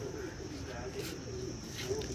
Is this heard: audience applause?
no